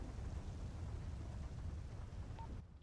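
Thunderstorm in the FiveM roleplay mod of GTA V: a steady low rumble with rain-like wash, fairly faint, running continuously and then dropping off abruptly near the end.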